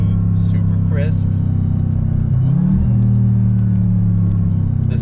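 A 2021 Dodge Durango Hellcat's engine drones loud and close, then its pitch swoops mid-way through a smooth downshift before it settles into a steady deep rumble.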